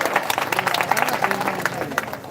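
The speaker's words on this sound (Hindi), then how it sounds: "ताली बजा के मेरा समर्थन करें" An audience at a prize distribution event claps in a short burst of dense applause, close and fairly loud, with crowd voices mixed in.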